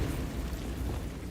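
A Bombarda spell blast from the video game Hogwarts Legacy erupts as a single loud, rumbling explosion that sustains its deep roar across the short moment.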